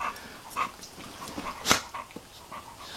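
A dog makes soft whimpering and breathy noises at close range indoors, with one sharp sound standing out midway over a faint background.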